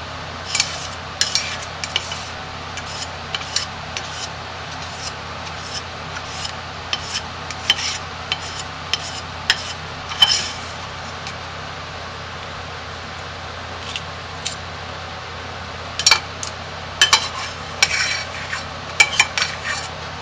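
A spoon scrapes homemade lye soap mixture from a container in short, irregular clinks and scrapes, quiet and close, with no talk.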